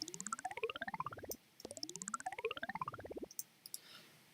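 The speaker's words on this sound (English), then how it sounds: "just recorded out the sound called Bubble Sweep in the FX section" Synth FX preset called Bubble Sweep, heard as rapid bubbly clicking pulses sweeping upward in pitch, two repeated passes with a short gap, followed by a few scattered bubble pops fading out; no talking.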